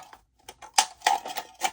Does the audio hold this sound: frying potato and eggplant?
no